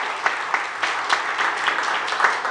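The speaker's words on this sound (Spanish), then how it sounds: "quiero volver a pedir un aplauso a todos" Applause from a crowd at a Netflix film premiere, brisk clapping with a few sharper claps standing out, continuous for the whole short stretch.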